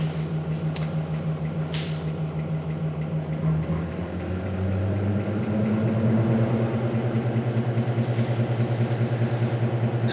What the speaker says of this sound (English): is a pulsed DC stepper motor that provides mechanical output and electrical output